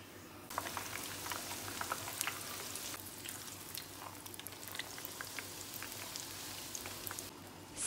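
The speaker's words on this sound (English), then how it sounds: "Cook it on medium flame." Bhature frying in oil over a medium flame, a dense steady sizzle and crackle with bubbling pops, close and continuous throughout.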